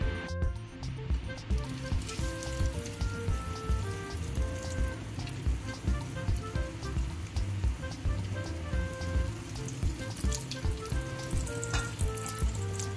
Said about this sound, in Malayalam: ഇനി നമുക്ക് ഈ പത്തിരി ഒന്ന് പൊരിച്ചെടുക്കാം.